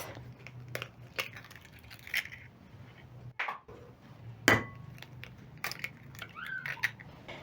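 Two eggs cracked and dropped into creamed margarine and sugar for a chocolate banana cake batter, giving a few close, sharp cracks and soft knocks with one stronger crunch midway over quiet kitchen background.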